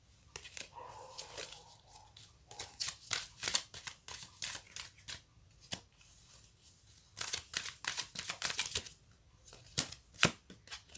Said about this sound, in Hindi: तो हम दोबारा शफल कर लेंगे।